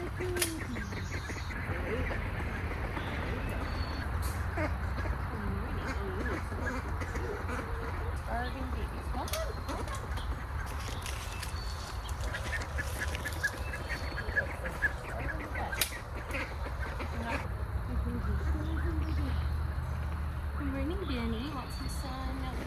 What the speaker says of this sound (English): Hold on, I have really upset ducks over here.